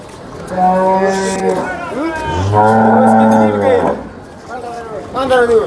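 Several loud, drawn-out moos close by from a cow at the Modnimb cattle market in Maharashtra, one after another, with people talking in the background.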